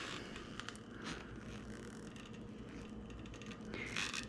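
A wrench loosens a bolt while a bicycle is being adjusted, giving faint metallic creaks and ratcheting clicks over a low background rumble.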